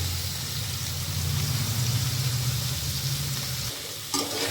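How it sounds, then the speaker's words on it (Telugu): Chicken curry sizzling and being stirred in a hot pan, a steady loud frying hiss with scraping under it, dropping away near the end. "మొత్తం చికెన్ అంతా వేసుకుని ఇలా వేసుకుని చికెన్ మంచిగా మనం మిక్స్ చేసుకోవాలి"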